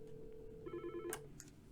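An office desk phone rings with an incoming call: a short electronic warbling ring pattern, fairly close and quiet, followed by a couple of soft clicks, with no talking.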